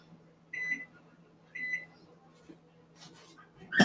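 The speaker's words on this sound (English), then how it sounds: "I'm going to set my timer for, we'll say 10 minutes." Kitchen timer on a microwave or oven emitting two short electronic beeps about a second apart, clear and close in a quiet kitchen, followed by faint clatter.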